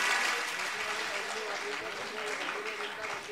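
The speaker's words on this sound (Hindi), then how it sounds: "कृपया एक बार जोरदार ताली बजा दीजिए" Strong, sustained clapping from a large audience at a Bhagwat Katha religious discourse in the Mahakaleshwar temple at Ujjain, a dense and even roar of hands that fades slightly toward the end.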